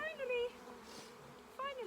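Honeybees buzz steadily and close as a colony with its queen is shifted into a new hive box, the loud hum swelling at the start and again near the end.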